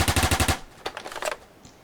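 Rapid-fire gunshots from a Roblox game, a tight burst of about eight loud shots followed by a few scattered, fainter shots.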